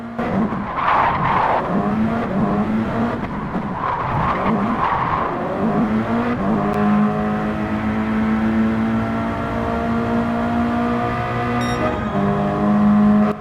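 Race cars in a Gran Turismo 7 Nations Cup exhibition round at Trial Mountain, loud engines revving and whining in close side-by-side racing, with tire squeal and rising pitch as cars accelerate past.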